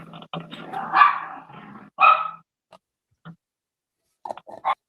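Dogs barking in a burst of loud, close barks followed by a pause, then a few sharper yips and barks at the end.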